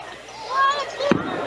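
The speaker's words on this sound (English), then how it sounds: "We had fireworks going off out here on the field." A firework goes off over a high school football field, a rising whistle followed by one sharp crack, fairly close, with faint background voices.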